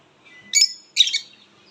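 Two short bursts of bright, high chirping from small caged birds close by, separated by a brief pause, with near silence around them.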